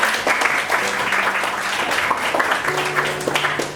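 A classroom full of people applauds the groups, dense steady clapping throughout, fairly loud and close.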